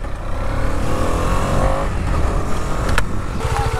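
A motorcycle races along a jungle track in first gear, its engine roaring loudly and steadily up close for the whole stretch, with revving surges and no talking.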